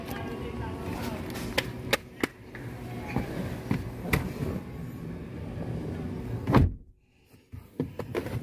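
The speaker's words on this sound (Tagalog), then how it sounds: "So pag sinara ba yung pinto." A Toyota Raize car door swings shut with one solid thud near the end, followed by a brief hush, after several lighter clicks and knocks from handling the door.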